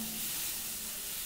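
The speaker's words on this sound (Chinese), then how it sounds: "接着翻炒" Broccoli and shrimp with shrimp paste stir-fry in a hot pan, a steady, close sizzle with light stirring, no voices.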